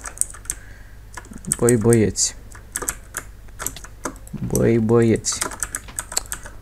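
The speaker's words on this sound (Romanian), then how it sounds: "mie chiar îmi place cum se aude pe fundal gen tastatura asta" Computer keyboard typing runs steadily in the background as a dense patter of quick, crisp key clicks, with someone speaking briefly twice over it during Minecraft Survival Games play.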